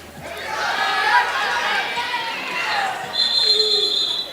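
A crowd at a high school wrestling tournament fills a gym with a steady murmur of chatter and scattered calls. A few voices and squeaks stand out near the end.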